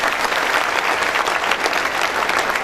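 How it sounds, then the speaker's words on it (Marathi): Loud, sustained applause from an audience at a talk session by UPSC and MPSC toppers, dense continuous clapping throughout with no pauses. "पुन्हा एकदा जोरदार टाळ्या झाल्या."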